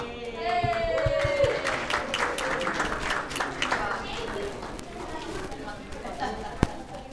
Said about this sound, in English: Give 'em a round of applause.